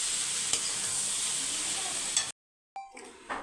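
Masala sizzling and being stirred in a hot pan, a steady broadband frying hiss with occasional scrapes that cuts off abruptly, then resumes more faintly after a short silence.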